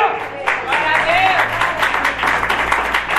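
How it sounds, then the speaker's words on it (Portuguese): A church congregation claps during a sermon, a moderate wash of applause mixed with voices calling out over it, with a sustained tone underneath. "Uma salva de palmas para Jesus."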